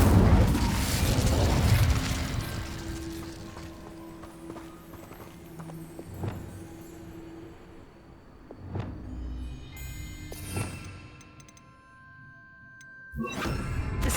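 Incendio fire spell cast in Hogwarts Legacy, a dense roaring burst at the start fading over several seconds, followed by scattered sharp pops and game effect chimes, with a fresh noisy burst near the end; no talking.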